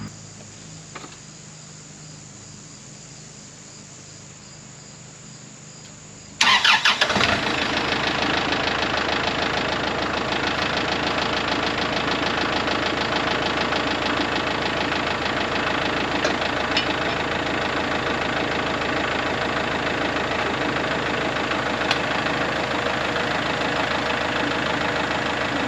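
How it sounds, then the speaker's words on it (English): A Kubota Grand L4060 tractor's 4-cylinder naturally aspirated engine cranks and fires after a few seconds of crickets chirping outdoors, then settles into a steady, loud, close diesel idle with even knocking rhythm and no talk. "So this has a 4-cylinder naturally aspirated engine."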